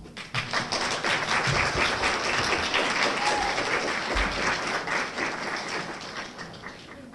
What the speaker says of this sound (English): Another round of applause for Nia.